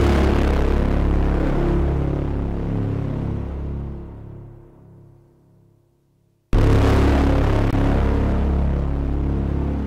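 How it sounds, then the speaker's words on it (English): Thick, heavily distorted synth bass preset from a beat-making sample kit, loud and droning alone; it fades away as the high end darkens, then cuts back in suddenly at full strength. "it's just like a super thick bass"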